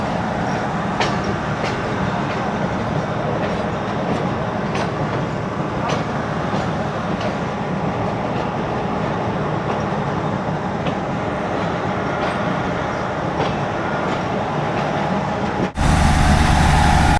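A passenger train stopping at Sukheki station on the Lahore to Sangla Hill line in rain, heard as a steady, loud rumbling wash of engine and carriage noise with faint clanks, ending in a sudden louder, closer burst of noise.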